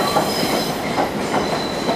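A New York City 1 subway train runs past close by near Times Square and Grand Central, a steady rumbling roar with a soft rhythmic clatter of wheels and a faint high whine, heard alone.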